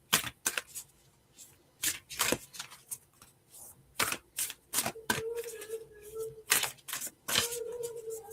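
Tarot cards shuffled by hand close up in quick, irregular bursts of flicking and riffling, with brief pauses between.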